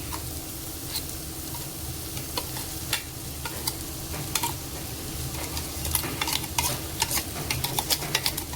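Dried bombil fish frying in oil with an onion-tomato masala: a steady close sizzle with scattered clicks and scraping stir sounds, growing busier toward the end, no voices.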